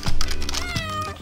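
A cat gives a short, clear meow, close and loud, with a second rising meow following right after, standing alone without talk.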